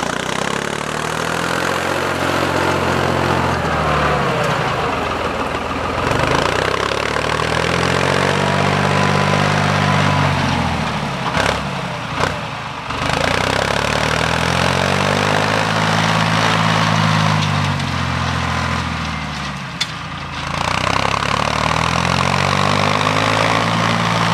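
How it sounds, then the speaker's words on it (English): A tractor engine runs steadily while out planting beans with a disc, its loud low drone rising and falling in repeated sweeps as the revs and load shift, with occasional clunks, and no talk. "So let's get the tractor started up and get the disc going."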